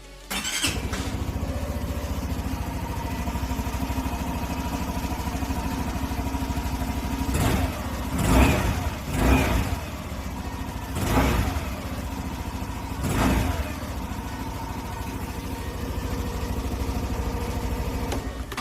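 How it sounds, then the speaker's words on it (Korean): A 2021 Suzuki Address 125 scooter's exhaust idles with a steady buzzing putter, broken by several short throttle revs that swell and fall back. "배기음을 한번 간단하게 담아 보도록 하겠습니다"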